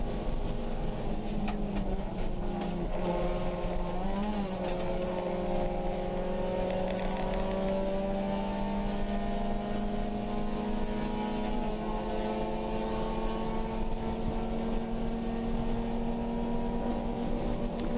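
A race car stuck in gear drones steadily from its engine, heard for a long stretch as a sustained mid-pitched tone with slowly shifting harmonics, fairly faint and without talk.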